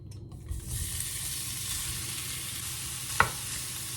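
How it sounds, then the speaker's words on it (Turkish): Meat for kavurma sizzles loudly in a hot pot over high heat, a steady crackling hiss that swells after a moment, with one sharp metallic clink of a utensil near the end. "Yüksek ateşte hala ve etlerimi içerisine ekliyorum."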